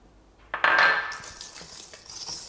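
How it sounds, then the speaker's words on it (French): Flour being mixed into pastry cream batter in a bowl gives a sudden clink of a utensil against the bowl, followed by soft scraping and stirring sounds close up. "Mélangez délicatement"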